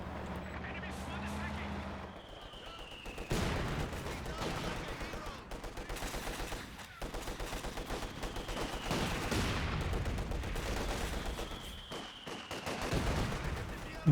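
Company of Heroes 2 battle with mortar blasts and rattling bursts of gunfire, sharp impacts punctuating steady automatic fire, while a commentator talks throughout.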